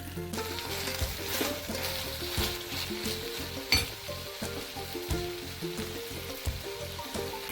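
Shallots sizzle and crackle in hot oil with green chillies and curry leaves for okra theeyal, stirred steadily with a spoon scraping the pan in a repeating rhythm, close and continuous.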